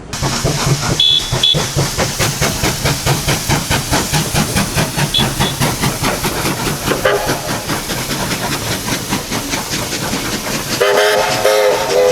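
Two steam locomotives, 3001 and 3265, haul a shuttle train on the Buxton line in Australia, a loud continuous rhythmic chuffing with hissing steam and rumbling wagons, a brief whistle-like tone near the end.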